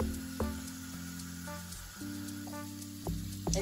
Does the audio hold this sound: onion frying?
yes